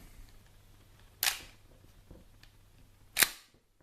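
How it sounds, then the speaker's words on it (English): An airsoft M870 shell-ejecting shotgun is pumped twice, producing two sharp close mechanical clacks about two seconds apart against a quiet background. "it moves all the way back to expel the old shell and load a new one"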